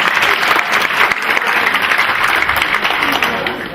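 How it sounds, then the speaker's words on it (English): An audience applauds students at a school awards ceremony, a dense, steady wash of many clapping hands lasting several seconds without a break. "I just want to give you another round of applause to the students."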